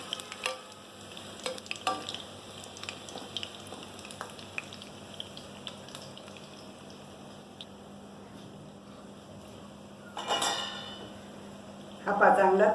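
Onion bhaji fry in hot oil with a low, continuous sizzle, then a slotted spoon turns them, bringing a couple of brief louder bursts of bubbling and clinking near the end.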